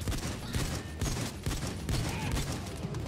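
Sustained rapid gunfire from a PayDay 2 bank heist, a near-continuous loud burst of automatic shots emptying most of a magazine against a heavily armored Bulldozer enemy, with no talk over it.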